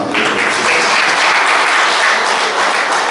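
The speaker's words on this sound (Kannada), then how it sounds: "ಚಪ್ಪಾಳೆ ಮೂಲಕ ಅವರನ್ನು ಅಭಿನಂದಿಸೋಣ" A meeting audience at a government employees' association annual general body gathering breaks into loud, sustained applause that fills the space evenly for a few seconds before trailing off.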